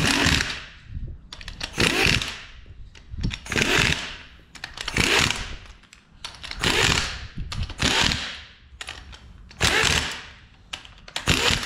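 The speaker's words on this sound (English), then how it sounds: "and then I'll just go around and tighten them all up." A power tool fitted with an 18mm socket tightens metric bolts on a Caterpillar 735 off-road haul truck wheel and brake assembly, in about seven loud, close bursts of a second or so each, separated by short gaps.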